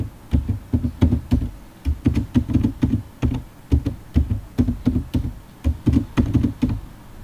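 A password is typed on a computer keyboard in a steady run of crisp, close key taps with short pauses between bursts.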